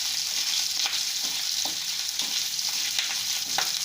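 Chopped ginger and chilli fry lightly in a pan for sabudana tomato khichdi, giving a dense, even sizzle with faint stirring scrapes, close and continuous.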